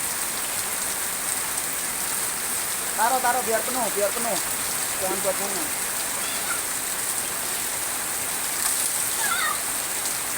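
Rain pours down steadily in Cikarang, a dense, even hiss of drops on surfaces; a few short spoken phrases rise briefly over the downpour.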